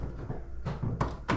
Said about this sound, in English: Everything's unlocking.